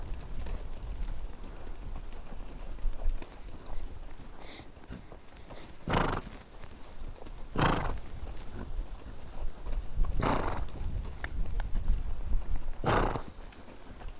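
A Rocky Mountain horse in training moves with soft hoof clops over ground, and several loud, sharp impacts or snorts stand out at intervals against quiet background noise.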